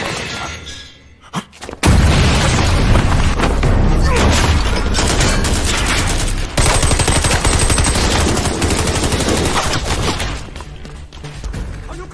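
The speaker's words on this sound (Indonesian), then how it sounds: "sehingga adegan baku tembak pun terjadi" Gunfire in a film shootout, where a ghost squad surrounds a legendary sniper: a few sharp isolated shots, then about nine seconds of dense, loud automatic fire and bursts, tapering to a handful of final shots.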